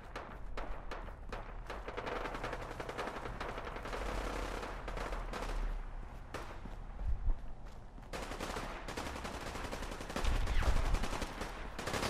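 Rapid gunfire bursts ring out in the video game Fallout 4, quiet and seemingly distant, sounding repeatedly over several seconds with no speech.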